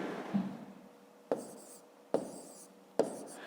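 A pen writes numbers by hand on paper, soft scratchy strokes with a few sharp taps, close and quiet with no talking.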